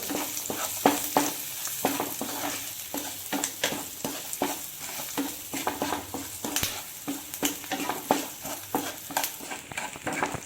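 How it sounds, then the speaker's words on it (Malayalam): Curry leaves and green chilies sizzling in hot oil in a pan while being stirred, with steady frying hiss and rhythmic scrapes of a spoon against the pan. "ഒരു രണ്ട് തണ്ട് കറിവേപ്പിലയും കൂടി ചേർത്ത് കൊടുക്കാം അതിൻ്റെ പുറകെ നമ്മൾ അരിഞ്ഞു വെച്ചിരുന്ന പച്ചമുളക് ഇത് രണ്ടും കൂടി നന്നായിട്ടൊന്ന് ചൂടാക്കിയെടുക്കണം"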